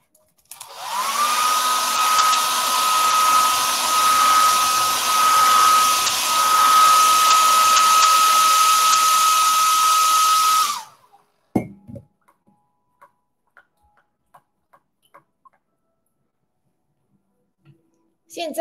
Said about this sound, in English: same blow dry